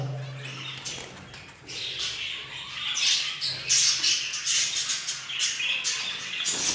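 Jumbo budgerigar chicks squawk in a dense, continuous chorus of harsh calls at close range, growing busier and louder through the second half, with no talking.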